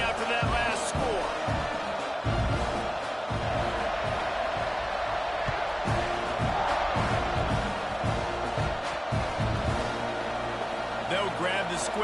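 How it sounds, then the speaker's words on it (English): Crowd buzz in an American football video game after a score, a dense, steady roar of stadium noise with scattered thumps and cheers over the full stretch, while a commentator talks throughout. "this crowd is buzzing after that last score"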